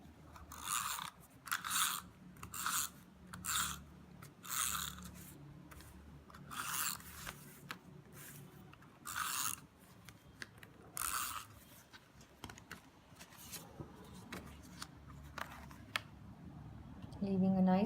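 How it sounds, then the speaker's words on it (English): A tape runner pressed and drawn across a layer of paper in short repeated strokes, giving crisp, close, dry rasping sounds in uneven bursts with pauses between them, and soft handling noise. "now let's stick our first layer again with the tape runner"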